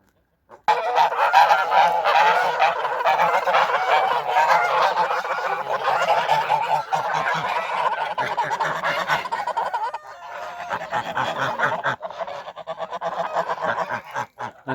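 A flock of Kholmogory and Tula fighting geese honks loudly and continuously, many birds calling over one another at close range with no talking.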